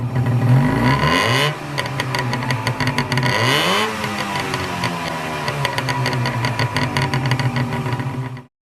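A 1966 Daihatsu Veloz 360 kei car's 356 cc two-stroke engine revs loudly up and down in several rising bursts, with a raspy, buzzing tone that settles between revs and cuts off abruptly at the end.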